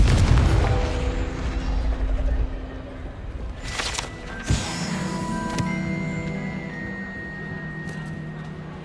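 Confringo explosive spell blasts in Hogwarts Legacy, a rumbling boom at the start fading out, then a sharp burst followed by bright magical ringing tones.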